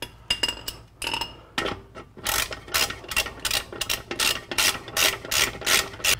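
Ratchet wrench snugging rear brake bolts on a GMC Yukon, a series of quick metallic clicking bursts in uneven strokes, close and fairly loud with no talk.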